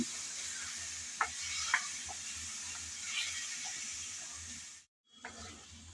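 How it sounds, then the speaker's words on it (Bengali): Cut potatoes are stirred and fried in hot oil in a home kitchen, with a soft, continuous sizzle and a few light scraping stirs, fairly quiet, and a brief drop-out near the end. "আলু দেওয়ার পর কিছুক্ষণ নেড়েচেড়ে মিশিয়ে নিলাম তেলের মধ্যে।"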